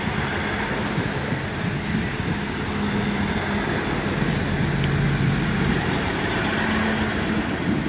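Class 159 diesel unit 159022 idles at Basingstoke station, a loud, steady rumbling engine drone with faint tonal hums layered over broadband noise, no voices.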